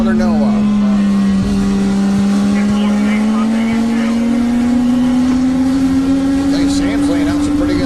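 Legend race cars lapping Cordele Motor Speedway in the rain, a loud steady engine drone rising slowly in pitch as the pack runs, with a commentator talking over it throughout.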